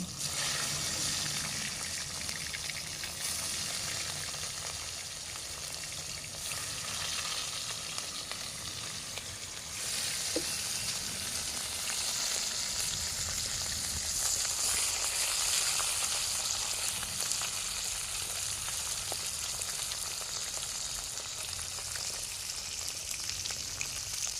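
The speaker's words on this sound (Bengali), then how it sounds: "প্রথমে আমি মাছগুলো কড়াইয়ের মধ্যে দিয়ে মাছগুলো আমি ভেজে নিচ্ছি" Pieces of rohu fish fry in oil in a wok, a continuous close crackling sizzle that holds steady throughout, with occasional faint stirring or clinking against the pan.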